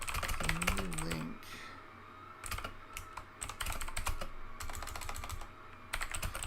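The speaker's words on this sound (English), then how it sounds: "apologies for the apparently ASMR sound of my keyboard here" A computer keyboard clatters with quick, uneven bursts of close keystrokes, a brief pause near the start and a faint tonal sound at the opening, with no speech.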